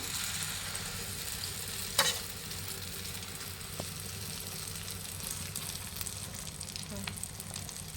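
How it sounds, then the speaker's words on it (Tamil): A turkey egg omelette frying in a pan that was used for fish, a low, steady sizzle with a couple of sharp spatula clicks, fairly faint and with no talking. "நம்ம மீன் வறுத்த கடாயிலே வந்து ஆம்லெட் போட்டுப்போம்"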